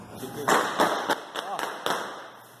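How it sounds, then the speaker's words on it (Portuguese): Several sharp gunshots ring out in quick irregular succession as criminals exchange fire in a street, sounding distant and echoing in the open. "Bandidos trocaram tiros no meio da rua. Veja aí. Escuta só os estalos."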